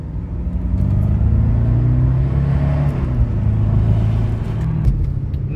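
A freshly serviced car with a new air filter pulls away and accelerates through second and third gear, a loud steady close engine rumble rising and holding throughout.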